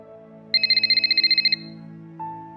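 Telephone ringing with a fast electronic trill burst lasting about a second over quiet background music, followed by a single higher tone.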